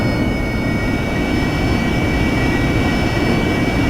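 An AV-8B Harrier jet taxiing in the DCS World flight simulator, a loud, steady jet-engine roar with a constant high whine riding over a broad rumble, unbroken throughout.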